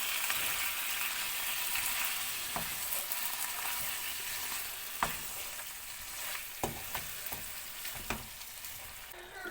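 Cooked mutton being stirred into sizzling masala in a pan for a restaurant-style pepper fry, a steady loud frying hiss with intermittent scraping clanks of the spoon against the pan.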